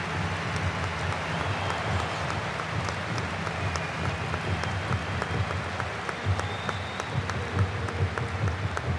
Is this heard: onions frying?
no